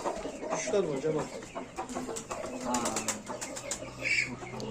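Chickens and roosters cluck and call inside a coop, their bird sounds mixed with someone speaking close by at moderate volume.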